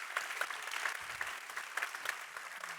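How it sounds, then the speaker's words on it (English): Audience applause for the speakers at the close of a two-day AI innovation conference, steady dense clapping from a large crowd lasting the whole stretch at moderate distance, with no voices over it. "give one more large round of applause to all the speakers over the past 2 days"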